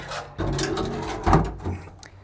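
The door of a wood-fired bake oven scrapes and thuds shut, a close sliding rumble followed by a heavier knock and a short settling clatter.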